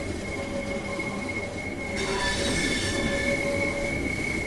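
A train rolls past in the Train Sim World 2 game on the Southeastern High Speed line, a steady loud rumble with sustained wheel squeal tones that swell slightly midway, with no talk.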